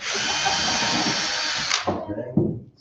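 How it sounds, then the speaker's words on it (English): A power drill bores loudly and steadily through a wooden board for almost two seconds, then winds down and stops, followed by a couple of faint knocks. "So we're going to drill another hole."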